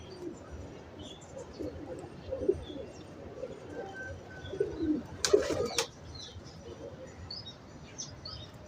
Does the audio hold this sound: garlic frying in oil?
no